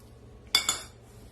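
A few quick clinks of a utensil against a bowl while transferring brahmi leaf chutney, two close knocks followed by a fading ring, in a quiet room.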